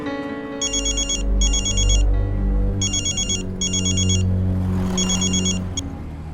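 Telephone ringing after a call is placed: repeated electronic ringtone bursts in pairs over a loud backdrop of dramatic music with a sustained low tone, and no speech.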